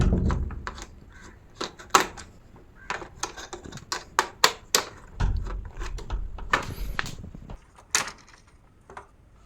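A blower is worked loose and lifted off an electric motor during disassembly, giving a close series of sharp plastic knocks, thunks and scraping clatter in irregular bursts.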